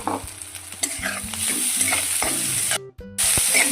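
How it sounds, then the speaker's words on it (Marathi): Capsicum stir-fried in hot oil with asafoetida and turmeric for a Marathi pithla, sizzling loudly and continuously with repeated spatula scrapes and taps on the pan, and one brief dropout near the end. "आता परतलाय यामध्ये शिमला मिरची टाकून घेऊ"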